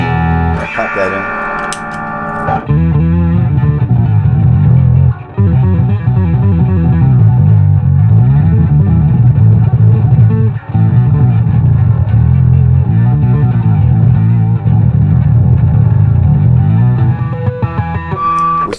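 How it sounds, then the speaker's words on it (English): Bass guitar driven through an EBS Billy Sheehan Signature Drive pedal blended into the clean loop, giving a loud, sustained distorted low tone with gritty high-end harmonics, steady notes running almost unbroken with a couple of brief gaps. "Distortion in there that's adding that high-end harmonic content to it and making it really come to life"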